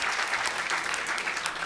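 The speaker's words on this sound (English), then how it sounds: "Holpert, who's up here in the front row and deserves a round of applause for all of her great work on the programming of the Tucson Festival of Books." An audience at the Tucson Festival of Books breaks into dense, sustained applause. The clapping continues steadily through the whole moment.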